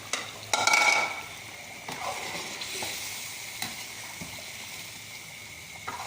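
Yogurt is stirred into a large batch of chicken karahi in a pot, producing a steady sizzle and close, scraping stir strokes that open with a louder burst and then settle into a continuous hiss.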